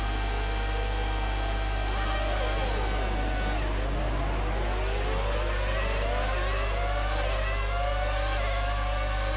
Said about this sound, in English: Listen to the squeal of the engine